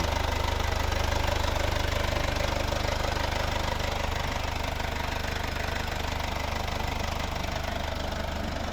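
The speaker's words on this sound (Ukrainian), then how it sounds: "Ну і чуть як працює двигун." A 2017 Mercedes-Benz C 220d (W205, 9G-TRONIC, 4MATIC) diesel engine idles with a steady, even clatter and low hum, continuous and unchanging at moderate volume, heard up close with no talking.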